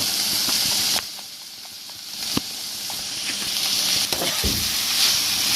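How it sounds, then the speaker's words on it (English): Garlic and herb seasoning sautés in a hot pan during a pasta recipe, a steady loud sizzle and hiss running throughout with a few sharp stirring knocks, no talking. "and then saute it for just a few seconds."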